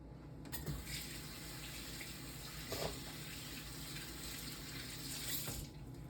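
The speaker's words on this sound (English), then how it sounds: "let me rinse my hands off right quick" Water runs steadily from a kitchen tap as hands are rinsed beneath it, a continuous close splashing hiss with brief louder bursts where the hands break the stream.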